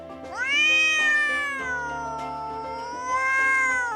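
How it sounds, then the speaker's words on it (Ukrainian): A cat meows in a long, drawn-out wail that rises and falls, close and clear with no other sounds around it. "Кіт кет."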